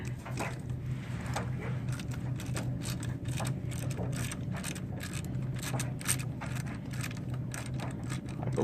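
Socket wrench ratcheting steadily while loosening exhaust bolts on a GY6 scooter engine, a continuous close clicking over a low mechanical hum with no talking.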